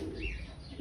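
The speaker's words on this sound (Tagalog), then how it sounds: "Kakarating pa lang ng mga ibon natin o." A racing pigeon back from a training flight gives a soft, low coo, faint and brief against quiet background hiss.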